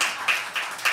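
Applause from an audience at a poetry reading, heard as short bursts of clapping that swell and fade about three times in a second, moderately close.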